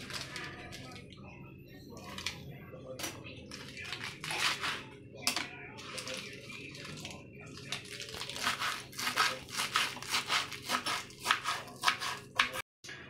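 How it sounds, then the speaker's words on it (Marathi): Repeated crisp chopping and crunching of leafy greens on a board, irregular cuts close by, with faint background noise. "आता पालक कापून घेते।"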